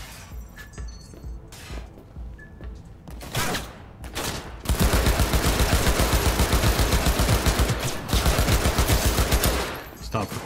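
Rapid automatic gunfire with heavy recoil in the Cyberpunk 2077 video game: a few scattered shots, then dense, loud sustained bursts of rattling fire with brief pauses between volleys.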